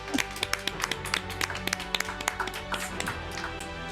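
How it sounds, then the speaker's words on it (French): Audience applauding honorary award winner Eric Chahi at the Pégases 2021 ceremony: dense, steady clapping from a crowd, fairly close and continuous throughout with sharp individual claps standing out. "Et on l'applaudit."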